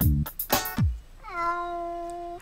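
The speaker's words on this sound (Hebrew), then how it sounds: "יש חתול." After a quick run of loud sung or vocal syllables, a single sustained cat meow holds steady for about a second, clear and fairly close.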